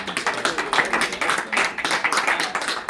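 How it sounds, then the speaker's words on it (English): A live audience at a PGA HOPE gathering breaks into brisk, dense clapping that runs steadily throughout, fairly close and loud, with no voices over it. "Let's give them a round of applause for being encouraged."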